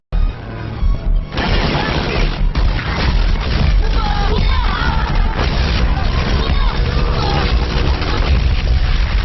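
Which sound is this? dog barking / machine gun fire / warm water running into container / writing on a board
machine gun fire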